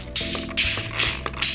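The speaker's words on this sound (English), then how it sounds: "grab a bottle of water that you can just spray on them" Several quick hissing bursts from a spray bottle misting water onto coffee filters for a craft, close and fairly loud, with short pauses between the sprays and no talking.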